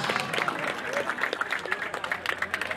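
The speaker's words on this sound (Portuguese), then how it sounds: "Palmas, palmas, palmas, palmas." Spectators at a Brazilian freestyle rap battle clap in a short, uneven burst, moderately loud, with scattered voices and shouts mixed into the clapping.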